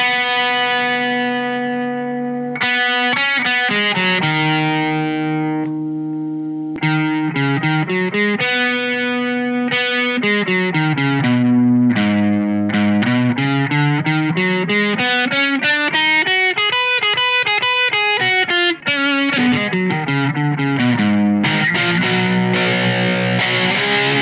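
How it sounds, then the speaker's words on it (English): Electric guitar played through a Blackstar ID Core 40 amplifier with its room reverb effect, a continuous stream of slightly distorted notes and chords with a short ambient tail, loud and steady without talk. "This is the room reverb."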